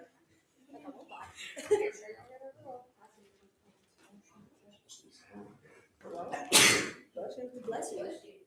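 A single sharp sneeze bursts out in a quiet room during a Bible study, set among scattered soft talking and murmurs before and after it.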